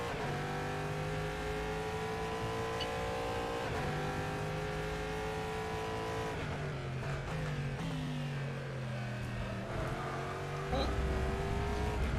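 A GTE race car in rFactor 2 nearly spins out, its engine droning in gliding harmonic tones that rise and dip through gear changes and throttle lifts, steady and continuous under faint background chatter.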